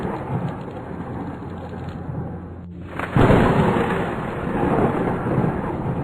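Heavy rain pours continuously while a loud crack of thunder breaks out and rumbles on, close and powerful.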